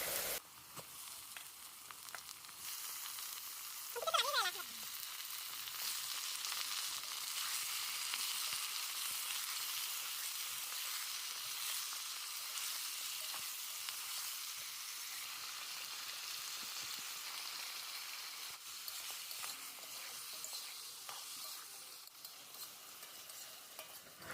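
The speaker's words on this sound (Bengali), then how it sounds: "পিঁয়াজগুলো ভাজা করে নিলাম" Onions frying in a pan give a steady, soft sizzle that runs evenly throughout, with a brief louder stir or clatter near the start and no talking.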